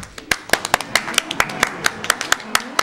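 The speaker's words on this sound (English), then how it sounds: "Can we get a little clap for Quang over here?" Group of people clapping for a Fox player after a Super Smash Bros. Melee grand final match, a quick burst of sharp, uneven claps close by, no talk over it.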